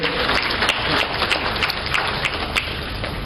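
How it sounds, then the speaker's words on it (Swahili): An audience applauds at the opening of the Sabasaba trade fair, steady clapping from many hands close and fairly loud for the whole stretch, with no speech over it. "naomba tuwapigie makofi mengi sana board ya Tantrade"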